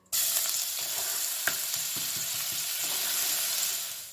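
Ginger and garlic sizzle steadily in a little hot oil in a cooking pan, a continuous close frying hiss with a few soft stirring clicks, no voices.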